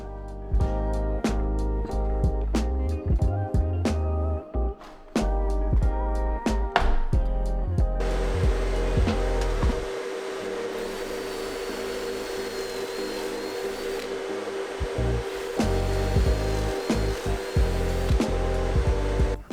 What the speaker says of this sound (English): So I'm going to drill some pocket holes real quick.